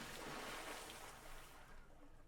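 A pool splash sound effect is auditioned during sound design: a short, quiet burst of broadband watery splashing and hiss that fades over about two seconds.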